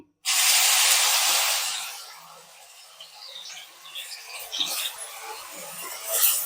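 Onion paste hits hot oil with mustard seeds, a sudden loud hiss that bursts in and gradually subsides into a softer, crackling sizzle with small pops, close and alone.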